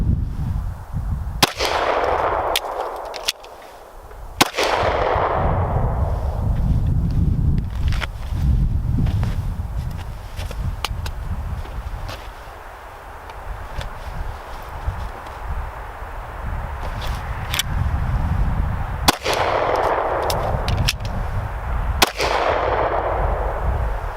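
An Agency Arms Glock 19 pistol fires sharp single shots at a range during drills, in scattered pairs and singles over a steady background rumble.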